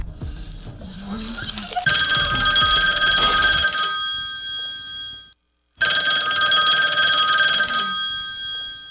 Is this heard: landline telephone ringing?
yes